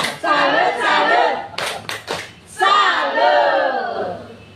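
An audience at an education workshop performs a chanted salute cheer, voices calling out in unison with a few sharp, rhythmic claps in the middle.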